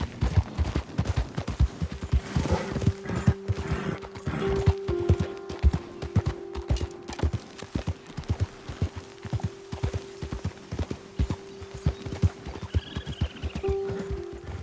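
Horse hooves clip-clop in a steady, close rhythm through the Red Dead Redemption 2 game world, with faint tonal music and a few brief other game sounds behind them.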